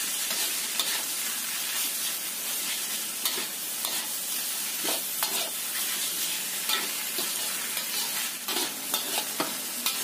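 Spring onion greens and cabbage stir-fried in a hot pan until wilted: loud, continuous close-up sizzling with repeated scraping stirs and crackles, with no talking.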